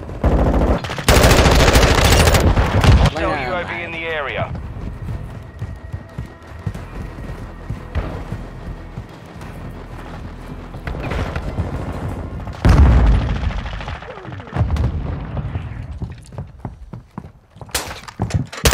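Sniper and other gunfire in the video game Modern Warfare 2: loud shots and rapid bursts crack out at the start and again partway through, with quieter stretches of game noise and footsteps between.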